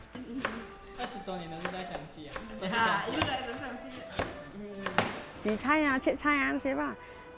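Knife chopping vegetables on a cutting board in a communal kitchen, a series of quick, sharp, close knocks with a voice talking over them.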